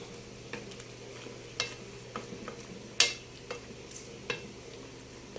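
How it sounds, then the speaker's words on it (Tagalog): Chop suey is stirred in a pan to work in black pepper, with a faint steady sizzle under scattered spoon clinks and scrapes that come every half second or so, with one sharper knock in the middle. "Haluin ng kaunti para ma-mix lang yung ating paminta."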